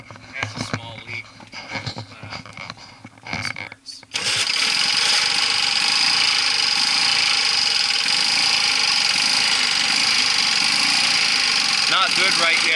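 1977 Lawn-Boy model 5245 lawn mower engine, sputtering unevenly at first, then catching into a loud, steady, buzzing run that continues to the end.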